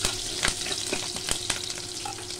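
Green chillies frying in hot oil with asafoetida: a steady close sizzle with occasional crackles and spoon scrapes against the pan, no talking.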